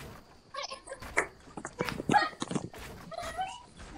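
A dog whimpers and yips in short, high, uneven bursts close by, mixed with scuffling movement, with no clear talk over it.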